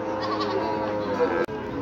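A goat bleats close by at a crowded livestock market before Eid al-Adha, a drawn-out, wavering cry over a busy background, with a sharp click near the end.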